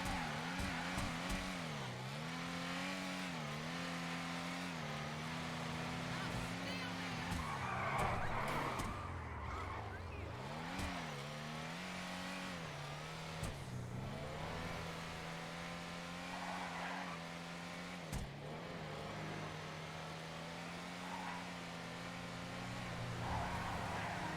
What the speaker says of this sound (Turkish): Araba bir drift arabası.